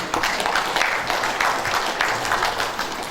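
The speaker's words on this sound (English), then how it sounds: "I think I deserve the first round of applause." A conference audience at a ceremony breaks into steady applause, a dense wash of clapping that carries evenly and fairly loud from start to finish.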